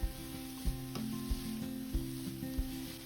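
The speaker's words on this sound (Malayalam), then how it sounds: "ഇനി ചേർക്കുന്നത് ക്യാബേജ് ചെറുതായിട്ട് അരിഞ്ഞതാണ്" Finely chopped cabbage fries in a pan with a steady, soft sizzle. Faint scraping knocks from stirring recur about every half second. No one speaks.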